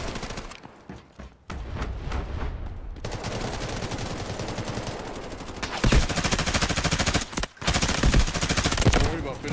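Gunfire in the shooter game Delta Force Hawk Ops during extraction mode: dense, loud rapid automatic bursts and overlapping shots running almost continuously, with brief gaps and heavy, chaotic layering of fire.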